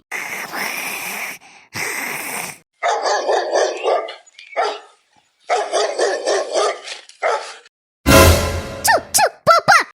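Street dog barking in repeated loud bursts close by, with pauses between volleys and sharper yelping barks toward the end.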